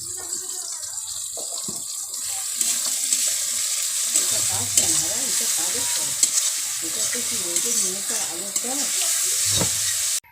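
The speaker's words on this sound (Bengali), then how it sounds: "এবার রসুন বাটাটা দিয়ে দিলাম" Garlic paste frying in a pan, a continuous bright sizzle that swells as it is stirred, with soft scraping and a clunk at the end; no voices.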